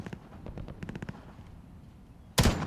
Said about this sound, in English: It's not easy to hit them with the pistol from back here.